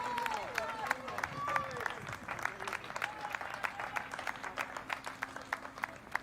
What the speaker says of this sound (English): Deserves those applause that she's receiving from her teammates